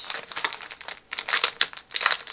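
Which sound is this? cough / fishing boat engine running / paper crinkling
paper crinkling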